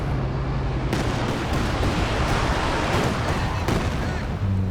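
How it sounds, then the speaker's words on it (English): A Werfer rocket artillery barrage in the real-time strategy game Company of Heroes 2, a dense rumbling roar of rockets and explosions with sharp repeated impacts, loud and continuous. "Another Werfer barrage."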